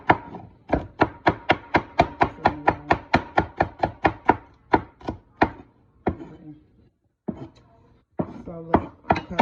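A knife chops celery on a cutting board in a home kitchen for a smothered roasted turkey wing dish: a fast, steady run of close crisp thunks, then a pause and a few slower cuts.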